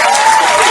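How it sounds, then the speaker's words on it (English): A dense burst of clapping from a crowd, loud and continuous, fills the brief moment. "clap it up for her."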